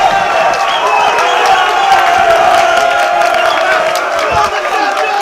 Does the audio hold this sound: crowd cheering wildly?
yes